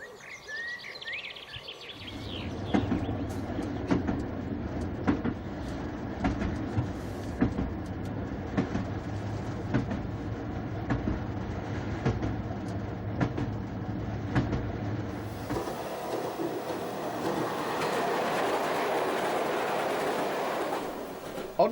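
Train on the Sidmouth branch railway line heard from the driver's cab, a rhythmic rumble of wheels over rail joints with a steady engine drone, later shifting to a brighter, hissing running noise.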